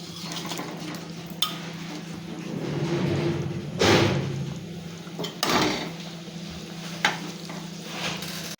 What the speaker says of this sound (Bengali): এবার আমি ভেজে রাখা মাছগুলো দিয়ে দিচ্ছি